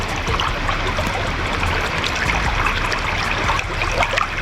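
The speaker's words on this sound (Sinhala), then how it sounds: "පිරිසිදු වතුර පාරක් තමයි ගලාගෙන යන්නේ" Steady, clean water stream flowing continuously near Rathna Ella waterfall at Hasalaka, a close, constant broadband rush with trickling and splashing detail throughout.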